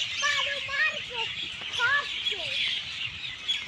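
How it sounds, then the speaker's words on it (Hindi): Birds chirp and tweet in a city forest, a series of short, bright, rising calls repeating close by over a steady background hiss. "चिड़िया चिल्ला रही है चू चू करके"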